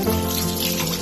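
Water splashes and runs over a Bronze Age axe head being wetted for cleaning after a metal-detecting find, a close, continuous gushing sound heard alone for a moment.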